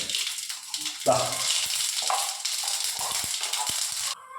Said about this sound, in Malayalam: ഒരു സ്പൂൺ കടുക് നമ്മളിട്ട് പൊട്ടിക്കുകയാണ്.